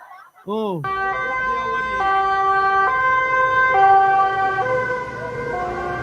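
An ambulance siren wails loud and close, a brief rising whoop followed by a steady two-tone cycle that repeats alternating pitches continuously.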